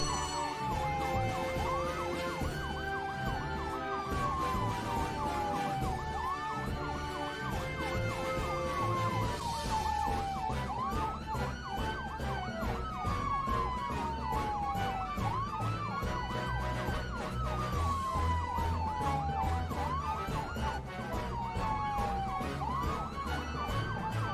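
Wailing fire engine sirens from a fire brigade turning out to a fire, rising and falling in repeated sweeps over a steady engine rumble, loud and continuous throughout with no talking.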